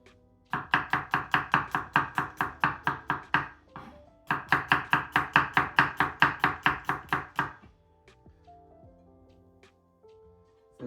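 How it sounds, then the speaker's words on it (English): A knife slices through garlic cloves into thin strips on a board, two quick runs of crisp, evenly spaced cuts close up, followed by a few quieter scattered taps. "just gonna simply slice through it"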